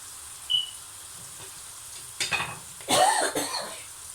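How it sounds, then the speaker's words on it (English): Onions browning in a pot over high heat give a low, steady sizzle, broken by a few brief clattering stirs and scrapes near the end. "So it's still up at a high heat, guys, because I want to brown these onions off"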